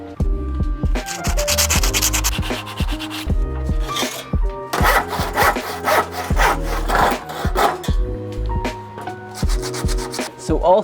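A handsaw cuts the excess off a wooden decking board for a bonsai bench. Loud, close back-and-forth rasping strokes come in several bursts with short pauses between them, and no one talks.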